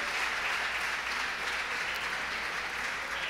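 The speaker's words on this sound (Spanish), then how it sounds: "Muy bien, fuerte aplauso" Steady applause from an audience at a Spanish spearfishing championship weigh-in, continuous dense clapping at moderate level throughout with no break.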